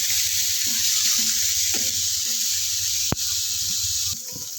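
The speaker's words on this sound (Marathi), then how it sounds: "आता आपण फ्राय करून घेऊया पटापट." Paneer fries on a hot griddle, giving a steady close sizzle with small crackles and one sharp clink of a utensil partway through, no talking.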